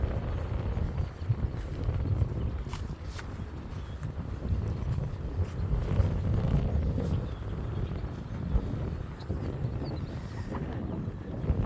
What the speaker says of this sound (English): as I struggle with the wind here